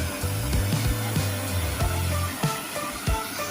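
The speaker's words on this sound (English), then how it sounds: "We're using a 15-inch surface cleaner." A 15-inch surface cleaner on a pressure washer runs steadily, a loud continuous hiss and whine with a low rumbling hum that wavers slightly, alone without voices.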